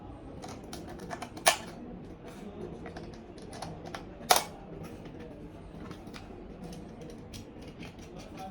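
Screws are tightened to fix a switch and a socket into a gang box of an extension board, giving faint small clicks and light scraping, with two sharper metallic ticks near the start and the middle.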